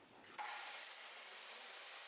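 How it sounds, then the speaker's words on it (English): A power saw cuts a groove into the underside of a wooden kitchen countertop, starting abruptly after a brief quiet and holding a steady, faint, hissing whine to the end, with no talking. "So here I am sawing a groove in the underside of the top."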